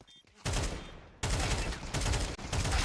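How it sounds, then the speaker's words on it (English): Counter-Strike match gunfire, bursts of rapid automatic spray in quick succession broken by a short pause, loud and close, with a caster talking over it. "Really good spray from Disco Star"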